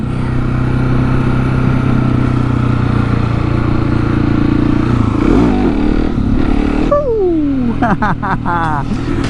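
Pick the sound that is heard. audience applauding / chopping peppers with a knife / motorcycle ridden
motorcycle ridden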